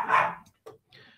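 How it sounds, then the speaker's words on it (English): A dog barks once loudly and close, followed by two short fainter yips or clicks spaced apart. "Dogs being dogs."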